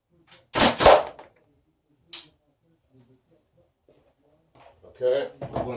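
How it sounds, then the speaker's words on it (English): A Crosman DPMS SBR air rifle fires a double tap: two sharp cracks in quick succession, a lone snap a second later, then near-silence before a voice and clatter near the end. "we're going to start the double tap with the DPMS on the right hand side"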